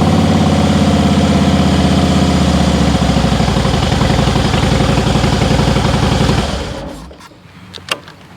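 A Harley-Davidson motorcycle engine, started in first gear with the clutch held in, runs at a loud, steady, throbbing idle up close, then cuts off, leaving a few faint clicks and a small knock afterward.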